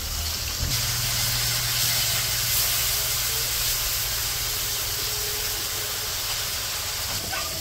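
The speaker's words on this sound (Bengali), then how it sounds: "তো মাছগুলা যখন ভাজা নিতেছে" Fish coated with turmeric, chili and salt fries in oil in a village kitchen, giving a continuous, even hiss and sizzle with no talking.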